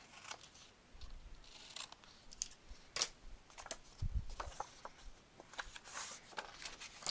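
Scissors snip paper corners while mitering a scrapbook album page, giving a quiet series of short, crisp cuts with light paper rustling in between, close by and unaccompanied by talk.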